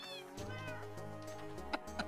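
Cats in a cat video game give several bright, clear meows in quick succession, close and loud, with a low steady tone running underneath.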